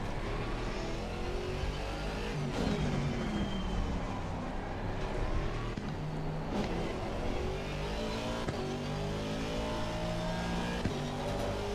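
Steady engine drone of a GT3 race car in Assetto Corsa Competizione, with rising and falling revs through gear changes across the whole stretch, constant and close without pauses.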